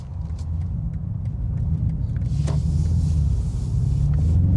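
2025 BMW M5 with an electrified bi-turbo V8 accelerating hard, heard from inside as a deep, steady low rumble that swells gradually louder over several seconds.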